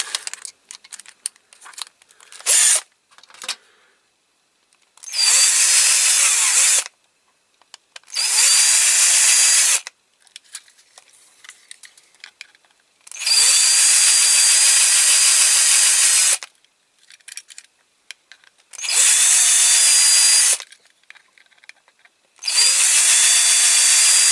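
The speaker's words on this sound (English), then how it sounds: "I think that's my pretty blunt drill bit. Yeah, we'll use this one." A power drill with a blunt bit bores into a die-cast Corgi Toys Ford Zephyr police car, loud close whining bursts of several seconds each, separated by pauses filled with faint handling clicks.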